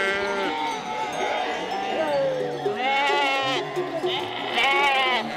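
A large flock of sheep migrating up to a highland summer pasture bleats continuously, many overlapping calls near and far, with someone talking over them.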